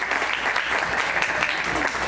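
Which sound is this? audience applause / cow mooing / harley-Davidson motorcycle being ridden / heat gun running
audience applause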